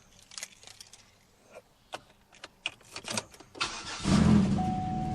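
A salvage 2007 Buick Lacrosse with an exhaust leak is readied with a few faint clicks and rattles, then the engine cranks and catches, settling into a loud, steady idle with a chime tone sounding over it.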